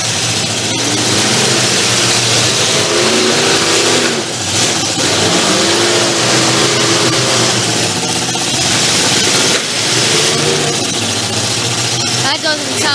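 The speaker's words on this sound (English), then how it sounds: "A lot of backfire and popping going on for the Anarchy car." The Anarchy car in a night demolition derby at the Stoneboro Fair runs its struggling engine hard, loud revving and rough popping throughout, under an announcer's continuous commentary.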